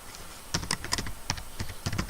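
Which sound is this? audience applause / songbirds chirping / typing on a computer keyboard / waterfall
typing on a computer keyboard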